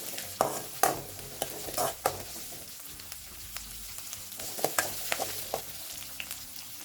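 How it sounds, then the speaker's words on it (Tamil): Small shallots sautéing in a pan for a Tamil anchovy fish curry, with steady sizzling and scattered louder clinks and scrapes of a spoon stirring them, close and with no talking. "வெங்காயம் பார்த்திங்கன்னா கோல்டன் ப்ரௌனாக நல்லா வதங்கி வரணும்."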